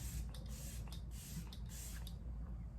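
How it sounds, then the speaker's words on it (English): Several quick hissing bursts of makeup setting spray in a row, close and fairly soft, each a short puff of mist. "If you want, you can use some setting spray."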